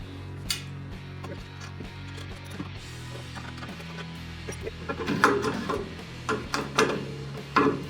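A wrench tightening nuts on a new bandsaw gives several close metallic ratcheting clicks and clanks, irregular and growing busier toward the end.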